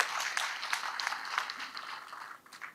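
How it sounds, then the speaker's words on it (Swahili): A crowd at a Siaya County security forum claps for the Cabinet Secretary, a brief spell of moderately distant, even applause that fades slightly toward the end. "Makofi mazuri kwa Bwana CS."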